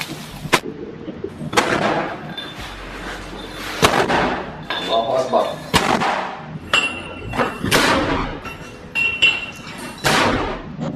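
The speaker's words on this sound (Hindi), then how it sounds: "लड़ाका लॉन्चर में रॉकेट भरकर उन्हें दनादन फायर" A militant loads and fires rockets from a launcher, a series of sharp, loud blasts spaced a second or two apart, with metallic clinks and clatter between them, heard fairly close.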